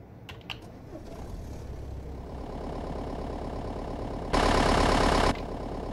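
In American Truck Simulator, a modded Ford Crown Victoria's engine cranks after a few clicks and settles into a steady low idle, with a brief louder burst of revving partway through.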